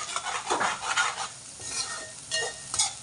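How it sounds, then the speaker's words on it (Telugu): Ginger garlic paste, onions and green chillies fry in hot oil with turmeric in a pan, giving a soft sizzle broken by intermittent stirring scrapes and light clinks of a spoon against the pan. "పచ్చిమిర్చి అంతా గోల్డ్ కలర్ వచ్చేంత వరకు మంచిగా వేపుకోవాలండి"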